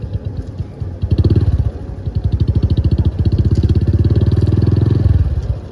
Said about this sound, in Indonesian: Kita gas tipis-tipis.